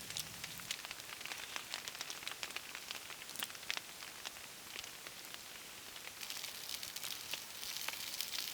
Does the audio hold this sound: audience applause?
no